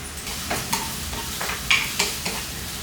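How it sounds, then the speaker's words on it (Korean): Shrimp stir-fry in chili oil with minced scallion, garlic and ginger, sizzling and crackling in a hot pan with intermittent scraping stirs, close and moderately loud, with no voices. "이 친구를 이제 고추기름에다가 볶아주겠습니다."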